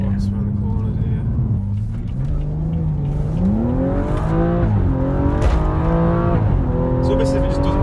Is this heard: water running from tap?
no